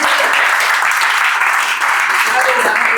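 A crowd claps loudly and continuously at a poetry and comedy show, with a dense, sustained wash of applause and a voice speaking over it.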